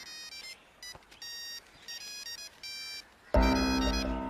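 A faint electronic ringtone beeps in short repeated bursts, then a louder, fuller ringing melody abruptly kicks in near the end.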